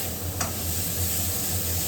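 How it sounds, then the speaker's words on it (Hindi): Finely chopped tomatoes fry with masala in hot oil, giving a close, continuous sizzle with a brief sharp scrape of stirring partway through. "इसी पर मैं डालूंगी 2 टमाटर जो बारीक में काट के रखी हूँ और इसे थोड़ी देर के लिए भूनूंगी"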